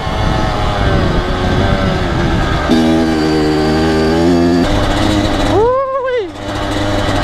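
Three-wheeler dirt bike engine droning steadily while being ridden on a street, a loud continuous buzz with a pitch that shifts and briefly dips, under a rider's talk.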